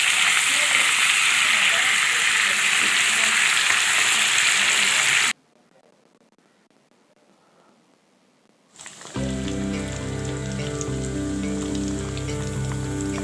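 African catfish pieces fry in hot oil with a loud, steady crackling sizzle that cuts out to near silence, then returns with a bright clattery hiss.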